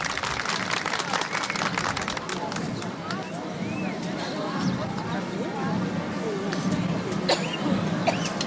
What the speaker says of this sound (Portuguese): Uma salva de palmas para as meninas da Escola Estadual e da Geralda de Carvalho.